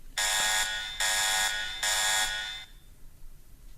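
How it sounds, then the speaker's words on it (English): Three loud, harsh electronic alarm bursts sound in a radio studio, each about a second long with short gaps, then cut off, leaving quiet room tone. "I set the alarm"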